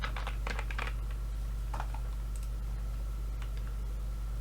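Keys tapped on a computer keyboard while a search is typed on a Windows 11 PC, with a quick burst of clicks at the start and a few scattered taps later over a steady low hum, close and quiet.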